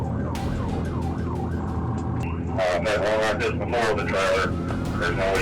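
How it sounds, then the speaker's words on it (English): Wailing police sirens sweep up and down over a running car engine, with a second siren joining partway through, loud and close. "blue lights explode behind it, sirens scream"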